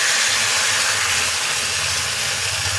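Soaked mustard powder paste going into a hot pan: a loud, dense, steady hiss of sizzling that fills the whole moment without a break.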